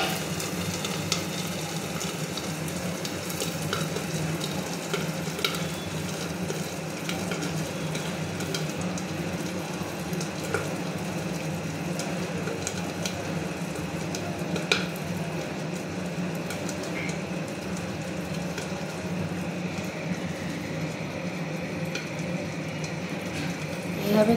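Fish roe fries in oil in a pan under a lid, giving a steady, continuous sizzle with faint crackles throughout and no talking.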